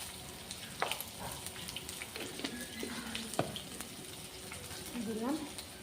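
Green chillies and nigella seeds sizzle in hot oil in a pan for a Bengali bhetki fish curry: a soft, steady crackle with a few sharp pops and clinks, fairly quiet, with faint voice-like sounds in the background.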